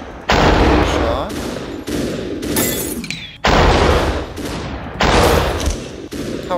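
Video game gunfire fills the scene with loud, dense bursts of rapid automatic fire and repeated single shots, several sharp onsets cutting through in close succession, while a voice talks faintly beneath.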